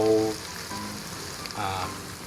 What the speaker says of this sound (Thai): ผัดเครื่องผัดก่อนเลยนะครับ